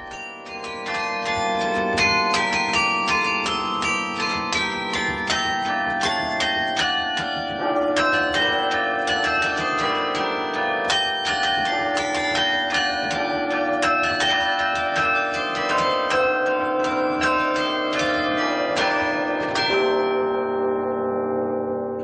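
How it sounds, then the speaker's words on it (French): Carillon bells ring at the Saint-Christophe church, a continuous melodic peal of many struck tones sounding loud and clear for about twenty seconds before the last notes ring out alone. "Des cours de carillon sont donnés toutes les semaines à l'église Saint-Christophe."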